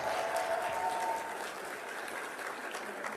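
Conference audience at a personal-story speech applauding, with dense, even clapping from many people and some cheering mixed in, steady and loud throughout with no talk over it.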